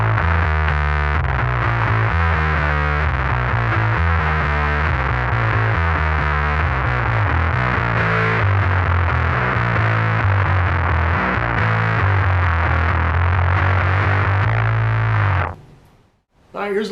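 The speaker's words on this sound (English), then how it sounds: "Throwing the big muff on." Epiphone Thunderbird Classic Pro bass played through a Big Muff fuzz pedal, giving a loud, thick, heavily distorted riff with a sustained low rumble throughout, then cutting off abruptly near the end.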